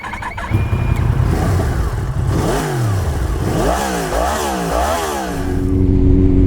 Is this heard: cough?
no